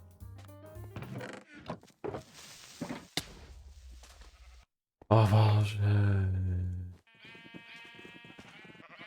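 Loud video game sheep bleats ring out between thuds and clatter, one long, close bleat standing out, with a brief spoken exclamation partway through.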